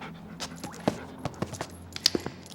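A dog pants in short, soft bursts with a few faint whimpers and yips mixed in, moderately near and fairly quiet against a muffled indoor background.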